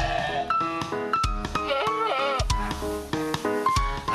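Goats for sale as sacrificial animals at a market in Solo, Central Java, fitted with face masks, bleat loudly and close by, several overlapping wavering cries in quick succession with no talk.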